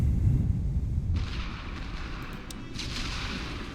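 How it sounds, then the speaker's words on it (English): Light guns firing artillery in a First World War Western Front trench video game, a dense continuous rumble of booming shots with crackling bursts, loud and sustained without speech. "Very pleased they're deciding to shoot our light guns."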